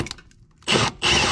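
A power drill whirs in two short, loud bursts separated by a brief pause, biting into aluminum close by while installing a step on a Ford F-250.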